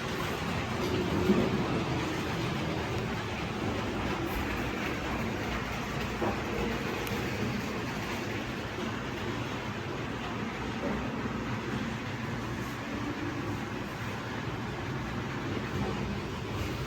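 HO scale Märklin model trains run on staging tracks of a large home layout, a steady, soft rolling rattle of wheels on rail continuing without pause.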